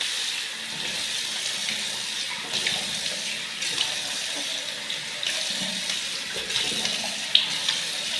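A water tap runs steadily for washing, a continuous bright splashing stream with occasional clinks and light knocks, fairly loud and close, with no speech.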